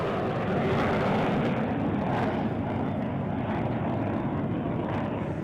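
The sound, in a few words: Indian Air Force Dakota and Dornier aircraft formation flying past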